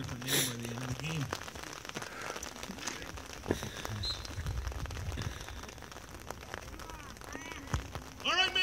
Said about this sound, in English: You're in the rain anyway.